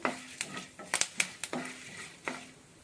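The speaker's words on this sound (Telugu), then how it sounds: "జీలకర్ర, మేతి పౌడర్, పసుపు వేసి కొంచెం ఇలాగా కలిపెట్టినట్టు చేసి" A spoon scrapes and taps against a pan as cumin, fenugreek powder and turmeric are stirred in hot tempering oil for wood apple chutney, with soft crackling between the clinks.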